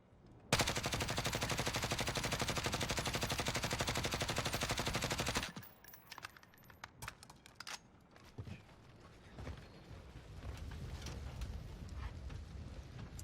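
Grau assault rifle fire in Warzone, a loud, fast, unbroken automatic burst lasting about five seconds. It is followed by scattered clicks and reload clatter.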